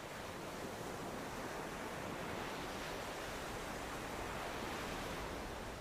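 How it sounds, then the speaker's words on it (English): Surf washing onto Playa Angar, a small beach in Mexico where green sea turtles nest, a steady broadband roar of breaking waves holding even and continuous throughout, with no voices. "This little beach is called Playa Angar."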